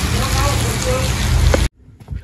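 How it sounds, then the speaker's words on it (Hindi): Heavy rain pouring down steadily, a dense loud hiss that fills the scene and then cuts off abruptly, leaving a quiet stretch with faint sounds. "तगड़े वाली बारिश हो रही है जी, तगड़े वाली"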